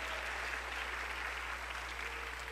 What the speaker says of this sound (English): Let's give a round of applause to our families and the school staffs.